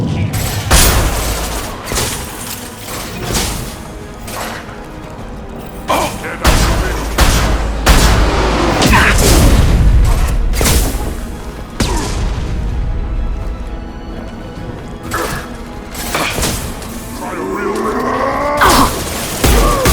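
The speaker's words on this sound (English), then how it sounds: "A misplaced shot can cause a significant explosion." Gunfire and explosions in the video game Mass Effect 2, a dense, loud battle with heavy booms, rapid shot bursts and thuds, and voices heard now and then within the noise.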